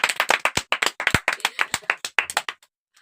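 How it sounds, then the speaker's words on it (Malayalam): A small group claps hands to cheer a win in a guess-the-logo game: about thirty quick, close, uneven claps over two and a half seconds, then they stop into silence. "അപ്പൊ ജയിച്ചതിന് എനിക്കൊരു ക്ലാപ്പ് കൊടുക്കാം എല്ലാരും"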